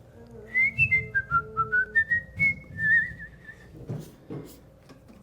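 A person whistles a short, wavering melody of about a dozen bright notes, close and clear, followed by a few soft knocks and shuffles.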